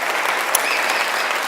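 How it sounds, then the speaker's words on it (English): An audience at a startup pitch session applauds the presenter, a loud, even, continuous burst of clapping from a full room. "let's give him a big round of applause"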